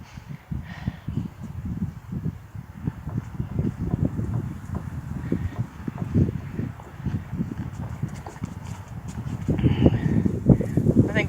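Wind gusts outdoors around a mare during groundwork, a broad rushing noise under a person's talk, with hoof steps clopping intermittently throughout.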